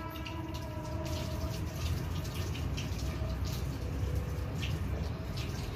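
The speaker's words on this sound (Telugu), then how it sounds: "బంద్ చేయి, వాటర్ పోతున్నాయి." Water runs from a tap in a steady, close splashing stream, with faint background voices and a low hum beneath it.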